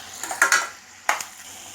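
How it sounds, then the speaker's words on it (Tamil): Tomatoes, onions and green chillies sauté in a pan for thakkali kulambu. A few quick spatula scrapes and clinks sound close over a faint sizzle. "நல்லா வந்து தக்காளி, வெங்காயம், பச்சை மிளகாய் எல்லாம் வதங்கிடுச்சு"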